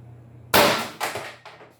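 A Mercury Rise Intrabuster less-lethal launcher fires a single sharp, loud report, then a couple of fainter clanging, rattling knocks over the next second.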